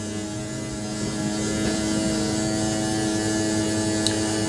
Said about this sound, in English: these are electric slides, 12-volt powered. So as long as you got a good battery, these things should roll right in and out.